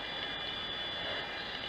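Avro Vulcan XH563 jet engines spooling up together on the runway line-up at Teesside Airport, a steady, dense roar with a high whining tone sustained throughout, loud and continuous without pause.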